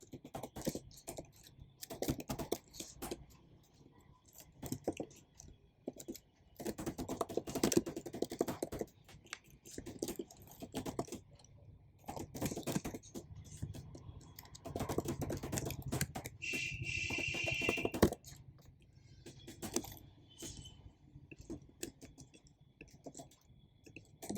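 Steady typing on a computer keyboard while entering array elements into code, a quiet run of irregular key clicks with brief pauses between bursts, close and alone.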